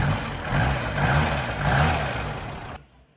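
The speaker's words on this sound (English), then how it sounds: "Let's just see how it picks up the revs." A 1985 Ford Escort Mk3 engine revving up and easing back a few times in a wavering, up-and-down rise and fall, close and fairly loud, then cutting off sharply near the end.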